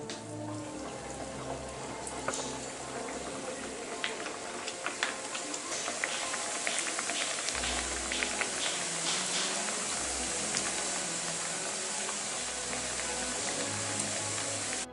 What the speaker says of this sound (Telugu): సో ఇప్పుడు దీన్ని డీప్ ఫ్రై చేద్దాం.